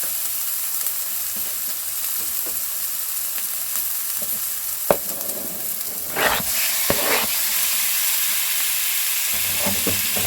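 Pork frying with onion in a pan for siopao asado filling, a constant close sizzle with clacks from the utensil and a louder burst of hissing as the meat is stirred.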